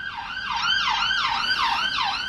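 A voice imitating a wailing ambulance siren, loud and close, with about five smooth rising and falling sweeps in quick succession.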